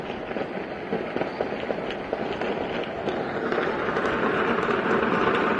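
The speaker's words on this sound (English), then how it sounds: "We got breaking news coming out of Venezuela. Heavy gunfire in Caracas." Heavy gunfire in Caracas, Venezuela, heard as a dense, continuous stream of rapid cracks and pops over a loud, steady rumble that holds from start to end.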